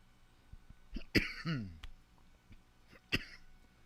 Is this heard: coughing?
yes